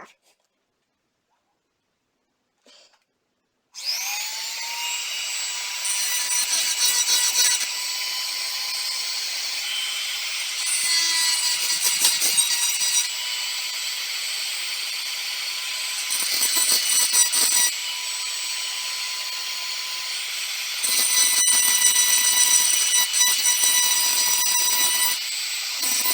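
A Dremel rotary tool spins up to a steady high whine and grinds burrs off a 50cc engine part in several pressing bursts, loud and close after a short quiet start.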